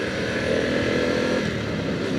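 A 2024 Harley-Davidson Pan America motorcycle engine drones steadily at cruising speed while riding, loud and continuous with wind noise and no talking.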